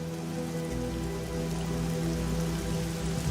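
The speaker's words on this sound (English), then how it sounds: "But the rain brings with it a terrible worry." Rain falls in the desert, a dense, steady patter close by that continues without a break, accompanied by a low, constant hum underneath and no voices.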